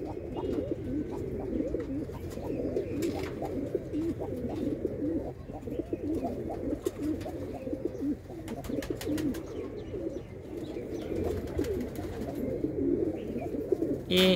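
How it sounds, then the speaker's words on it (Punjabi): Pigeons in a loft coo repeatedly in soft, throaty rolling calls, with several birds overlapping at close range, with a low steady hum in the background and occasional rustling. "ਖੱਟੀਆਂ ਦੀ ਇਹ ਕਬੂਤਰੀ ਆ ਅਤੇ ਚਿੱਟੀਆਂ ਦਾ ਕਬੂਤਰ ਆ ਜੀ।"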